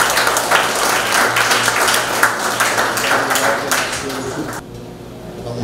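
Strong audience applause at a research presentation event, many hands clapping densely and steadily for several seconds before cutting off abruptly into a quieter room.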